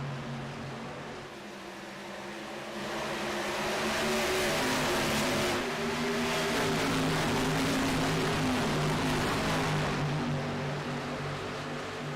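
Stock cars racing at Indianapolis Motor Speedway in a racing video game, a continuous roaring drone of engines that swells as the pack passes and eases off toward the end, with no talk.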